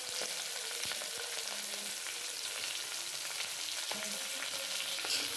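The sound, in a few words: frying green chillies and onions in a pan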